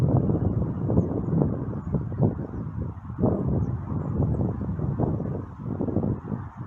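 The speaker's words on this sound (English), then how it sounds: "you can see that much more wind is now shaking this tree" Strong gusts of wind shake a tree outdoors, giving a loud, continuous roar of wind buffeting the microphone with surges and rustling throughout.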